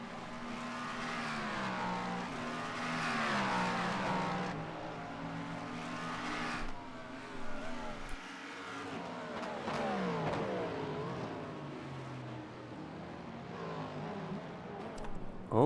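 Cadillac GTP race cars in an IMSA racing game, engines revving and shifting as they climb and drop in pitch, a continuous loud drone with several cars close together.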